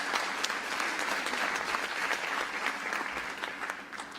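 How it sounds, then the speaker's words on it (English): Audience applause rings out for the accompanying musicians at a Bharatanatyam arangetram dance recital, a dense, even round of clapping from a seated crowd that continues steadily throughout. "Can we have a round of applause for these beautiful musicians?"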